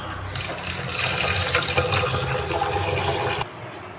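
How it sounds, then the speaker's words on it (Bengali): Rice being rinsed in water while making Mumbai-style tawa pulao, a steady close gush of running, splashing water that fills about three and a half seconds, then cuts off abruptly. "তাহলে আমরা এবারে চালটাকে ধুয়ে নেব।"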